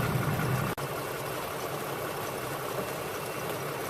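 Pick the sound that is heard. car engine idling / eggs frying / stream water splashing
car engine idling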